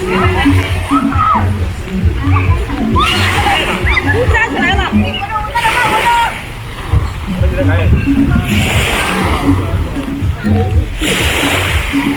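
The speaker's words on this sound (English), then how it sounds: "It's raining again." Rain splashing and sloshing steadily on Sentosa Island, with wet surfaces and water noise continuous throughout, while people talk and murmur in the background.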